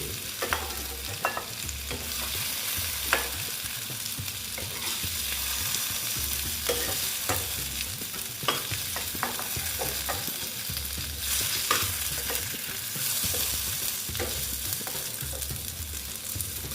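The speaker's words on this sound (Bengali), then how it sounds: "এটা দেখো ভাজা হয়ে গেছে সুন্দর হয়েছে ভাজা আমি বেশ বেশি করে ভেজে নিয়েছি" Chayote squash and potato pieces fry in oil in a kadai, a steady close sizzle with frequent spatula scrapes and stirring clicks throughout, no voices.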